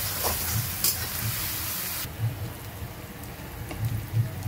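Spice paste for a prawn and green jackfruit curry frying in a pan, a steady close sizzle with a few soft stirring scrapes, the hiss easing and softening partway through.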